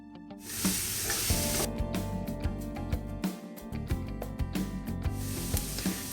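Garlic, bits of carrot and celery sizzle loudly and continuously as they soften in a hot pan, with repeated scraping and stirring strokes breaking through the frying hiss.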